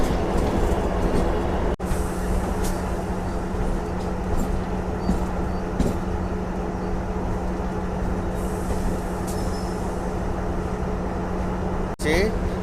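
A DEMU passenger train pulls out of Secunderabad railway station with a continuous low rumble and hum, broken by a couple of sharp clunks near the start and end.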